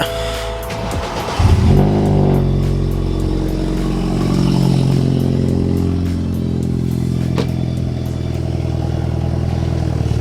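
A BMW F31 wagon fitted with an upgraded intercooler and charge/boost pipe cranks and fires up after a quiet lead-in, then settles into a loud, steady, close idle with a faint clatter and no talking.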